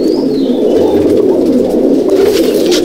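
Madrasi pigeons in a loft at Halisahar, North 24 Parganas, giving low, close, continuous cooing with overlapping throaty murmurs and a faint higher chirp early on.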